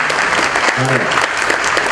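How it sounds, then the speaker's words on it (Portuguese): Audience at an opening ceremony of the Instituto Federal de São Paulo giving a round of applause, sustained dense clapping with a brief voice heard over it. "Uma salva de palmas"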